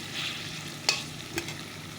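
Potatoes fry with spice masala in a pan over a low flame, a soft steady sizzle broken by two sharp clinks of a utensil against the pan.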